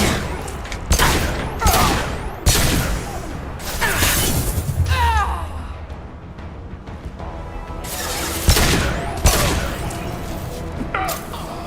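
Pistol gunfire in the game Mass Effect 2, a series of sharp loud shots in irregular bursts with crashes and impacts mixed in.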